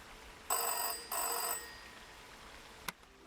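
A telephone bell rings in two loud, bright bursts of about a second each, followed by a brief sharp click and quiet background.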